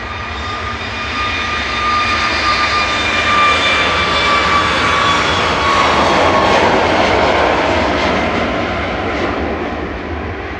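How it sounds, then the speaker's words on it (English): Smartlinks Malta jet flying for TUI departing Manchester, a loud, close engine roar with whining tones that swells and sweeps past as it climbs away, with no voices. "Smartlinks Malta operating for TUI there, heading off to Tenerife with flight 2476."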